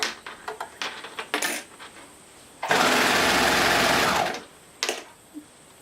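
A sewing machine stitches swimsuit fabric and its lining in one loud, steady whirring run of about two seconds, framed by clicks and small handling knocks before and after.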